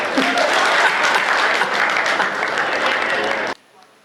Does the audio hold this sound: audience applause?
yes